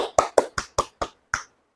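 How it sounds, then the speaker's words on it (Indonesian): A classroom group clapping for the students, six or seven crisp, evenly spaced claps close by, sounding like a single clapper, then silence. "boleh tepuk tangan untuk kalian semua"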